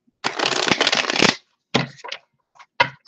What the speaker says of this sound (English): Getting a good shuffle going here because that was unusual.